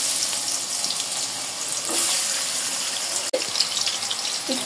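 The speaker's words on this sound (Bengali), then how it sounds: "তেল গরম হয়ে গেছে, আলু ভাজে নেব" Potatoes fry in hot oil, a loud continuous hissing sizzle like rushing water that holds steady throughout, with a brief sharp click near the end; no talk.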